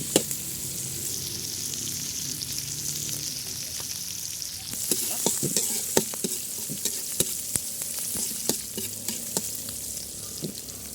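Chili and onion sauté in a hot pan, a soft continuous sizzle broken by sharp scraping and clacking strokes of a spatula that grow busier partway through, close and alone without talk.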